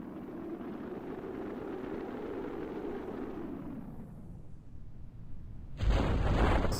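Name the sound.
distant boom of rocket engine in Kerbal Space Program video game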